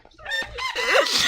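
Rooster crowing among chickens, near and loud, with a short rising-and-falling cock-a-doodle-doo over a brief clucking start.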